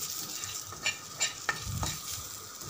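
Turmeric and chilli powder are stirred in a cooking pan for moong dal, a faint scraping sizzle with a few soft spoon clinks and scrapes against the pan, no voices.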